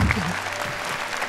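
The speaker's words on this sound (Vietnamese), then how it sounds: "Một tràng pháo tay lớn hơn nữa cho Minty và Honey" A burst of applause from a crowd, loud and steady for just over a second, with voices faintly mixed in.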